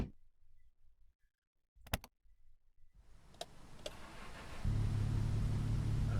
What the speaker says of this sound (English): back the car up a little bit.